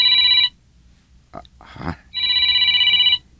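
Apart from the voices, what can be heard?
cellphone ringing with an incoming call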